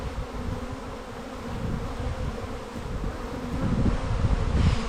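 Honeybees buzz in a steady, dense drone close by while comb is cleaned out of the sides of a hive box, the hum swelling slightly louder toward the end.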